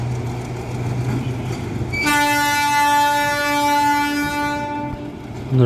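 Betna Express passenger train running on the Khulna to Benapole line: rumbling carriages, then a loud sustained horn blast of about three seconds, fading back into the rolling wheel noise.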